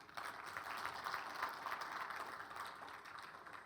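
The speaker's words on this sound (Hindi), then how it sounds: "ताली बजाइए जोर से।" Classroom audience applause: a faint, distant patter of many hands clapping together, steady and dense, dying down gradually toward the end.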